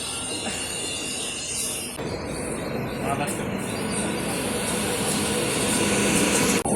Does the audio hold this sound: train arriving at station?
yes